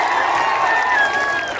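An audience at a Bhojpuri stage show applauds and cheers, a dense, loud wash of clapping and crowd noise filling the whole moment.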